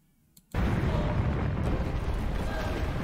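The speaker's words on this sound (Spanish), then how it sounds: "¿Y esa explosión?" A sudden loud explosion in a Zelda: Tears of the Kingdom game trailer bursts in after a quiet moment, followed by a sustained roaring rumble that stays heavy and dense to the end.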